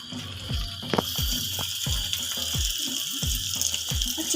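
Tap water runs steadily over a blender blade being rinsed in a kitchen sink, a continuous close splashing stream with soft knocks as the blade is handled, and no talking.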